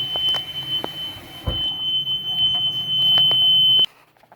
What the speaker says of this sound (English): when that alarm goes off, I know to go outside and pull the dump valve